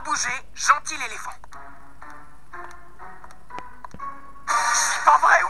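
A mobile phone plays a repeating electronic ringtone through the middle of the clip, with voices speaking before and after it.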